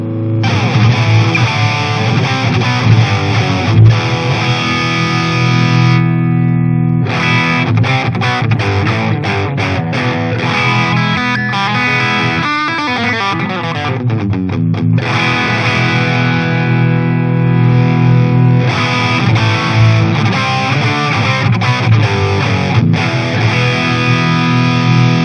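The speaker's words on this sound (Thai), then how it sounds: "ลองเป็นตัว DS1X บ้างครับ" Electric guitar played through a BOSS DS-1X distortion pedal, a loud, saturated crunchy tone with sustained chords and riffs, a brief break in the middle, and no talking.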